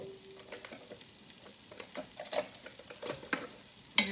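Potatoes go into a hot pot with a quiet, crackling sizzle and some scraping and tapping, ending in a sharp clatter; the whole scene is faint and close.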